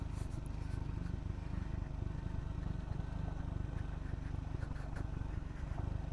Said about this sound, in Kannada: ಇಂಜಿನ್ ಬ್ರೇಕಿಂಗ್ ಚೆನ್ನಾಗಿದೆ ಗಾಡಿದು.